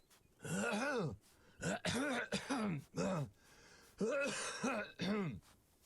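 A character in the video game Arctic Awakening coughs and clears their throat in a string of rough, voiced bursts, several close together and then a brief pause before a few more, loud and close with no other sound.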